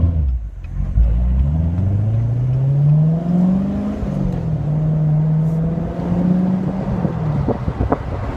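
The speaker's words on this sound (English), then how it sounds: "I love that crackling exhaust." C7 Corvette exhaust under acceleration with the top down, a loud, close engine note rising and falling in pitch through gears, with wind noise and light crackle over it.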